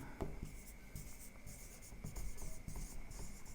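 Marker or chalk scratching across a classroom board during a physics lesson on waves and harmonics, a faint, steady run of short strokes close by with no talk over it.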